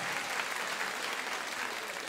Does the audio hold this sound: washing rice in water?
no